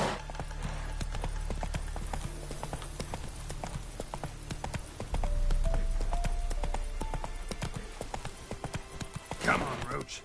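Horse hooves pounding at a gallop in The Witcher 3 on PS5, a fast continuous clatter under music and game ambience, with a rider's voice heard briefly.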